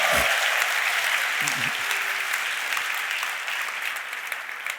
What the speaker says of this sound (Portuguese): Só dar uma salva de palmas para a galera.